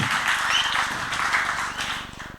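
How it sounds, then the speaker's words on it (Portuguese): An audience claps steadily for Miqueias at a talk on stage, a dense, even wash of applause that tapers off at the end. "Salva de palmas para o Miqueias"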